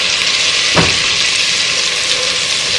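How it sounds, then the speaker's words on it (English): Steady, loud sizzling of food sautéing in a hot pan for broccoli cheddar soup, a continuous crackling hiss with one brief stir-like scrape partway through. "You can hear it sizzling."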